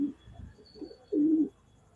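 Fancy domestic pigeon kept by a hobbyist breeder, cooing in two soft low throaty phrases, the second longer and fuller, close and quiet with no talk over it.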